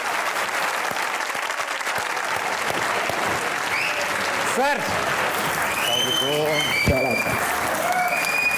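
A studio audience applauds as two Pakistani sports legends, Ehsan ul-Haq and Fawad Alam, are welcomed on a talk show. Steady crowd clapping fills the clip while a host's voice speaks over it.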